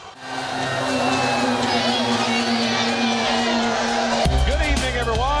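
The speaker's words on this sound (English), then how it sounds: "This crowd clearly tonight is charged up and ready to go" Packed Philadelphia stadium crowd at Game 4 of the 2008 World Series, Phillies vs. Rays, roaring steadily and loudly throughout, with whoops and a sharper surge of noise near the end, under a voice talking.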